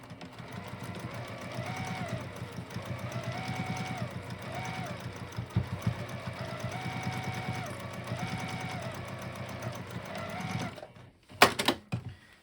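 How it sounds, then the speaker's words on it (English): A sewing machine hums steadily as it stitches across the corner of a knitting project bag, its motor pitch dipping and rising in rhythmic waves before ending with a few sharp clicks. "And sew across that corner."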